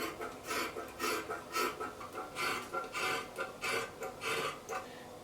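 Scissors cut through dress fabric in a run of repeated rasping snips, each a short burst of crisp shearing, close and fairly quiet with no talk.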